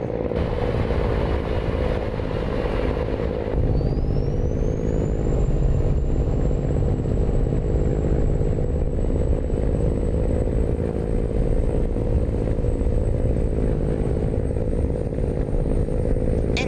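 A truck in American Truck Simulator drives on a dirt road, its engine a loud, steady low rumble with rattling and road noise throughout, plus a rising high whine partway through.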